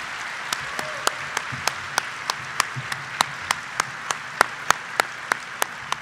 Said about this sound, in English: One more round of applause for Dar Williams.